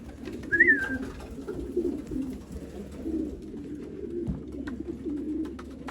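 Racing pigeons coo softly and continuously in a loft, a low steady murmur with one brief higher bird call early on and faint knocks of movement.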